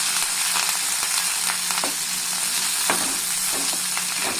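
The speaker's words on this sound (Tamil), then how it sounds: "வெங்காயம் வதக்கிக்கலாம்." Onions sautéing in hot oil with spluttered mustard seeds, dried red chillies and curry leaves for a ladies finger stir-fry, a steady close sizzle with occasional stirring clicks and scrapes, no talking.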